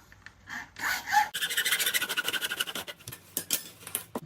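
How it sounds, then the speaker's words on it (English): Hacksaw cutting through PVC pipe for a homemade mini golf set, a close, loud run of rapid rasping back-and-forth strokes after a brief start, with no talking. "you just need to use your hacksaw and"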